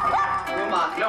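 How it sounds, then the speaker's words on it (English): A pet dog at home barking in a quick burst of close, loud yips and bow-wows, with a person's voice mixed in. "Anytime somebody comes over, she's just constantly barking at them and never shuts up."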